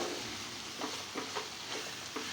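Garlic chili powder frying in a pan as it is stirred, a steady bright sizzle with soft periodic scraping strokes, close and continuous.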